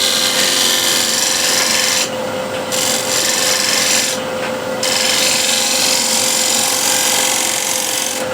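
A spear point scraper works steadily across the wood of a large bowl in shear scraping mode, giving a continuous close rasping with two short breaks in the stroke and a steady machine hum underneath.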